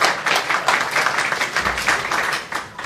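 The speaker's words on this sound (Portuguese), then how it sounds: "Vamos aplaudir." Audience applause at a forum event, a dense, steady burst of many hands clapping close and loud for the full stretch, with no talk over it.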